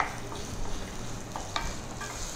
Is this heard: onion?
yes